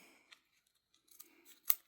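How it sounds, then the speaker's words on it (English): A few quiet, crisp snips of scissors trimming thick leather, ending in one sharper, louder cut; no talking. "Then I'm going to take my scissors"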